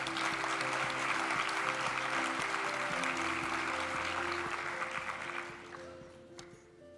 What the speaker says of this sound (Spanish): brindémosle también un fuerte aplauso